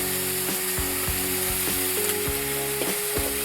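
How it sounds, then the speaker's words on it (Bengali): Fish frying in a wok over an outdoor stove, a loud, steady sizzle with rhythmic scraping and clanking strokes of a spatula against the pan. "একটা মাছ ভাজা হচ্ছে।"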